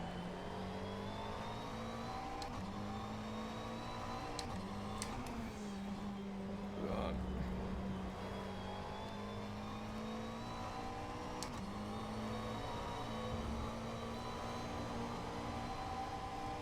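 Race car engine lapping the Zandvoort circuit in an endurance racing sim, a steady droning whine held at near-constant pitch with small gear-change dips, brief swells of louder engine noise midway, no voices.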